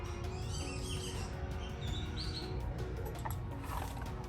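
Wild birds chirp and call near a pallet-wood chicken coop, short bright tweets repeating over steady low background noise with no talk.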